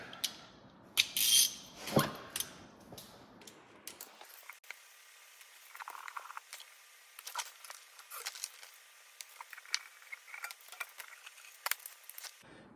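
Half-inch bolts come off the starter protector plate of a John Deere 50, 60 or 70 tractor: close, intermittent metallic clinks, ratchets and taps, denser in the first few seconds, then sparser clicks over quiet.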